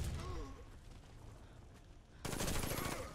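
A PPSh submachine gun fires in the Warface shooter on Nintendo Switch, heard as a loud, dense burst of automatic gunfire that arrives near the end after a quieter stretch of game noise.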